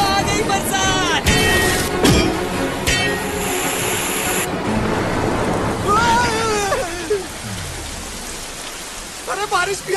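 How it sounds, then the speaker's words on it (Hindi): Heavy rain pours in a steady hiss through a film fight scene, mixed with shouting voices, sharp effect hits and swelling music, loud and dense throughout. "आ गई बरसात।"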